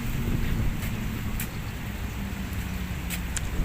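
Steady wind rushing and buffeting against the microphone outdoors at Manila Bay near coconut trees, broadband and continuous, with a few faint ticks and no talking.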